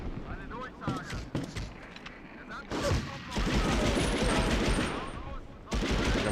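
Gunfire in the video game Medal of Honor: Underground comes as sharp shots and rapid bursts, loud and close, with someone talking over some of it.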